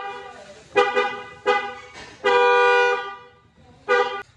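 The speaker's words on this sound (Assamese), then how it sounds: "এতিয়া এনেই হৰ্ণটো বজাই দেখাছোঁ" A car horn honks four times nearby, three short blasts and one longer sustained honk, with quiet pauses between them.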